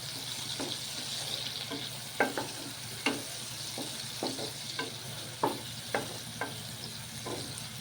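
Chopped tomatoes and onions cook in a pan as the base for a spine gourd curry, giving a steady low sizzle punctuated by spoon scrapes and taps every second or so, close by and fairly quiet.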